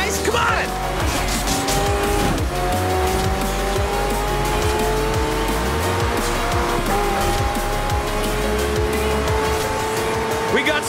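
Racing cars and trucks in Forza Horizon 5 roar steadily with rising engine tones and repeated tire squeals and skids, loud and continuous throughout.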